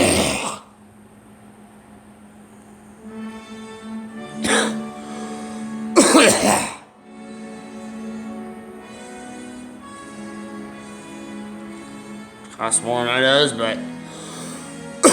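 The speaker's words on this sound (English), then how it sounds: "I'm coughing more." A person coughs and clears their throat in several harsh bursts, including one at the start and a cluster midway. Close-up talking fills the gaps between them.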